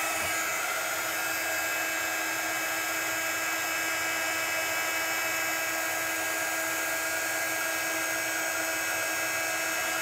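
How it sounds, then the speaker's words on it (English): A heat gun blows steadily while melting embossing powder over a stamped image, a constant high whining hiss with an airy roar beneath, unchanging and fairly quiet throughout with no talking. "we just move the heat gun over the image"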